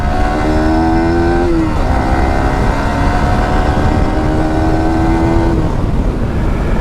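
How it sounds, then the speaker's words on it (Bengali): Yamaha R15M motorcycle, Indian BS7 version, accelerating on a rough road, its engine note rising in pitch, dropping briefly at a shift, then climbing again, loud and close with no talk. "বাইকটা টান দিলে তো টান উঠতেছে সেই"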